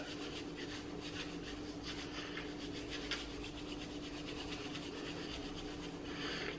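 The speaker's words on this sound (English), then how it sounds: "So you're supposed to rub these together." Two chest wax strips are rubbed briskly together to warm them, producing a close, continuous dry friction sound that stays steady throughout, with no talking.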